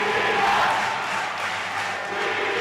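A football crowd on its feet at a Philippines versus Tajikistan Asian Cup qualifier, a dense, steady roar of cheering voices filling the stadium at close, even loudness.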